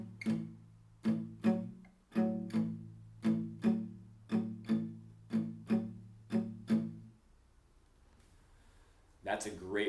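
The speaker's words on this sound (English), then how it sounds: "If I play the whole thing palm muted" A palm-muted blues guitar pattern in the classic style, with a dozen short, thumpy, damped strums in a steady shuffle. It fades to near silence before a voice starts at the very end.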